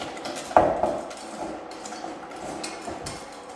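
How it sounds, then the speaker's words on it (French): A whisk beats chocolate ganache by hand in a bowl, giving light metallic clinks and scrapes, with one sharper knock near the start and quieter repeated taps afterwards. "on commence à mélanger plus rapidement de façon à émulsionner un peu plus la préparation"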